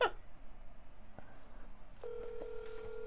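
Phone call being dialed: faint beeps followed by a steady electronic tone, quiet and close, with no talking.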